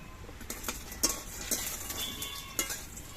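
Lentil dumplings (bori) frying in hot mustard oil, a soft continuous sizzle with repeated clinks and scrapes of a utensil stirring in the pan.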